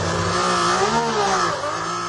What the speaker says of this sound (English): Can you hear the misfire?